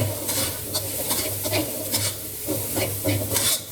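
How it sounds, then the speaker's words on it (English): Khao pad gai, Thai fried rice with chicken, tossed and scraped around a hot pan, with close rhythmic scraping strokes of the utensil over a continuous sizzle and frying hiss, no talking. "Stir, toss, and scrape the rice from the pan as it gets hot."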